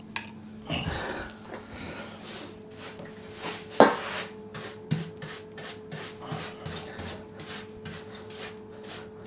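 Brush scrubbing a motorcycle fuel tank during repair on a workshop bench, a run of quick, rhythmic rubbing strokes close by, with one sharp knock near the middle and a few fainter bumps.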